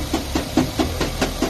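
A turbocharged Suzuki Every DA17W van with automatic transmission idles just after a cold start, a loud, close, low rumble with a steady rhythmic pulse of about four beats per second and no one talking over it.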